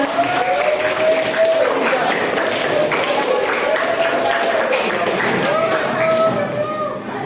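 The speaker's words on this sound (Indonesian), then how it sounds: "Tepuk tangan dulu untuk kelompoknya." Classroom of junior high students claps for a presentation group, a lively patter of many hands indoors, with voices talking over the clapping throughout.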